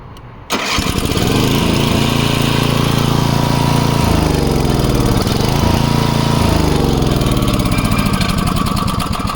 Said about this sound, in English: Let's go ahead and try starting it again.